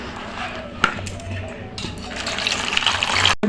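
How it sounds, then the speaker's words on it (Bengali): Running water splashes over a pomelo being washed by hand, a steady wet rush with a sharp knock near the start, with no talk over it. "তো আমি এখন বাতাবি লেবুটা ধুয়ে নিচ্ছি"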